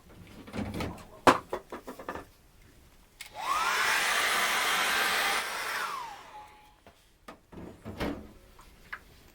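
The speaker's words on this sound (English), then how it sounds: "I'm just going to dry my painting off" A hair dryer blows on an acrylic cloud painting, a steady roaring whoosh lasting a few seconds that starts and stops abruptly, with clicks and handling noises before and after.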